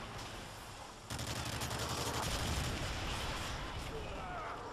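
Gunfire in Modern Warfare 3 multiplayer Domination on the Mission map: a sudden sharp report lands about a second in, followed by a sustained dense roll of battle noise that stays loud through the rest of the clip.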